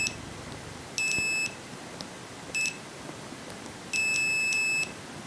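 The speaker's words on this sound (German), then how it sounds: "Ich glaube, der Piepser wird digital irgendwie vom Chip geschalten" Short electronic beeps from a Lidl multimeter's continuity tester, sounding in separate bursts of varying length with quiet gaps between, close and clear over a faint background hiss.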